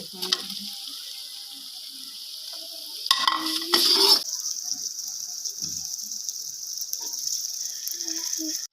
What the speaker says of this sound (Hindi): हुण आपां इहदे अंदर ऐड कर दिंदे आ चिकन।